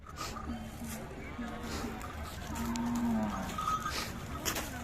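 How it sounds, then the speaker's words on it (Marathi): Khillar cows at the Umadi village livestock fair in Jat taluka, with a low moo rising out of a busy outdoor crowd din and background voices. "अशा प्रकारच्या खिल्लार गाई आहेत पाहू शकता"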